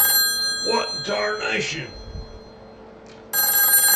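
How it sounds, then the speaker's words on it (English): An old-fashioned telephone bell ringing, a bright, loud metallic trill that breaks in at the end after someone speaks an exclamation; faint high ringing tones also sit under his voice. "That gum telephone ringing."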